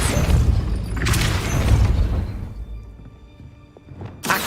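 A Depulso force spell in Hogwarts Legacy goes off as a heavy booming thud followed by a rumbling whoosh that fades, with a second sharp impact near the end, loud and close with no talk.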